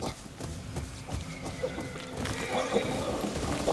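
Horse neigh and hoof clip-clop from the Ghost of Yōtei video game, a brief whinny over a steady low rumble of movement, moderately loud with no talk.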